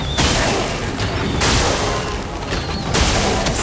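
Sack Attack Explosion skill in the video game Clair Obscur: Expedition 33, a series of loud booming blasts and crackling bursts, with three sharp impacts spaced about a second and a half apart.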